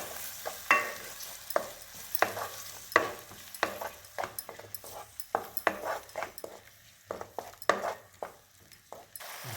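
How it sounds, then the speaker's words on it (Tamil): Ground tomato paste sautés in a pan for a sweet-potato paratha's vegetable masala side dish, with a low sizzle broken by irregular scraping spoon strokes and occasional clinks, quiet and close. "இப்போ அரைச்ச தக்காளி, இதையும் நல்லா வதக்கணும்."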